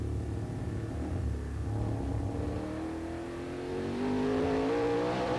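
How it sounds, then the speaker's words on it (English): TVR Tuscan V8 race cars at Donington roar past in a 1994 race, a deep engine rumble that rises in pitch as they accelerate and grows louder near the end, with no voices. "litre V8 Tuscans really sounding superb around Donington"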